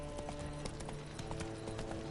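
Roach, the horse in The Witcher 3, clip-clops in a steady rhythmic gait, hooves close and clear over constant game background music and ambience.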